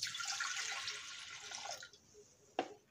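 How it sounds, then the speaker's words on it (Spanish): Water pours into a Thermomix bowl as the first step of a sandwich-loaf bread dough, giving a steady close splash that stops abruptly, followed by a single sharp knock. "En primer lugar vamos a poner el agua"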